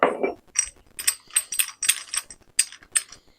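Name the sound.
wrench unscrewing the nut on a Procraft PTA24BL cordless trimmer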